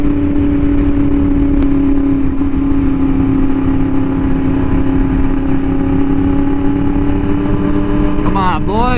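A Yamaha R1M fitted with an SC Project exhaust drones loudly at a steady engine pitch with strong harmonic buzz, then rises in a quick rev near the end.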